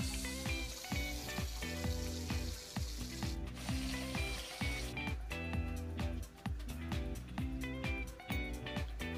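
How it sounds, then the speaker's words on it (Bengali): Pieces of fish frying in hot oil until reddish, giving a steady, loud, crackling sizzle with dense bubbling that continues throughout without any talk. "সবগুলো মাছ আমি এখন ভেজে নেব।"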